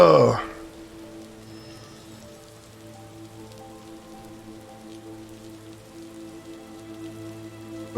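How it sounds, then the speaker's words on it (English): Rainfall in the video game RiME, a soft, steady hiss of falling rain beneath sustained tonal music, with a brief louder burst at the very start. "Let's see, it's raining."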